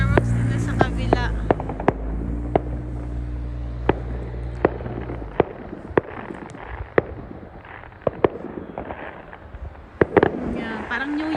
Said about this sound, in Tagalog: Ayun, nagpa-fireworks din na sa kabila.